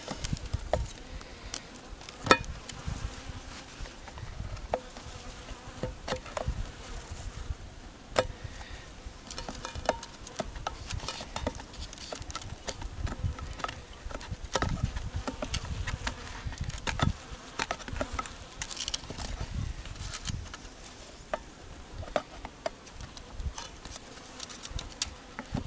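Honey bees from a package being installed into a hive, a dense continuous buzzing swarm close by, with scattered clicks and taps throughout.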